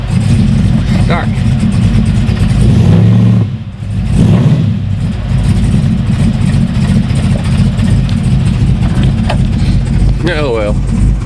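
An LS 5.3 V8 swapped into a 2006 Monte Carlo rear-wheel-drive conversion runs loud on a cold start. It drones steadily with rising revs and a brief dip midway.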